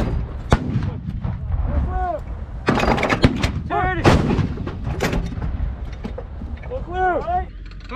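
U.S. Army soldiers of the 4-319 fire artillery during the Dynamic Front exercise, with several sharp, loud booming blasts spaced across the stretch amid shouted commands and chatter near the gun line.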